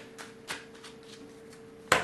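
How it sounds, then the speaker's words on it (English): French tarot cards shuffled by hand in a quick riffle, producing soft papery flutters and light taps over a low steady hum, closing with one sharp slap as the deck squares up. "I'm going to give it one more quick shuffle before we play."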